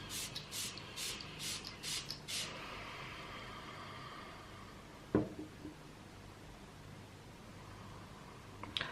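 Short bursts of a cosmos Metatron energy spray being misted, several quick hisses in a row near the start, then quiet room tone with a single knock.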